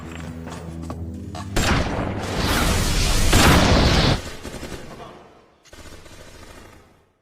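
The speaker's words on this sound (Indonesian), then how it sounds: "Dengan menggunakan sebuah RPG, dia menembak tepat mengenai Kang Mus" An RPG rocket launcher blast and gunfire in an action film scene: a heavy roaring boom builds and sustains for a few seconds, then fades, with dramatic music before and after.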